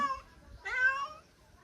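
Two short, soft meows from a cat, close by, with a quiet pause between them.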